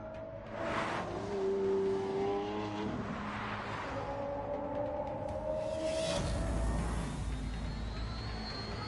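A supercar engine in The Grand Tour video game revs and accelerates, rising and falling whines over a steady rumbling drone, loud and continuous, with a deep surge of power near the end.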